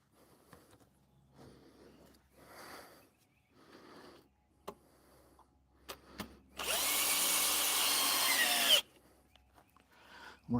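A power drill drives screws into wood: scattered handling knocks and scraping, then a loud, close, continuous whine of the drill running for about two seconds before stopping.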